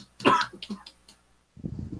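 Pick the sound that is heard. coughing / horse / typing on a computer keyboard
coughing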